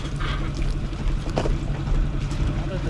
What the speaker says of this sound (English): Now that this motor's warmed up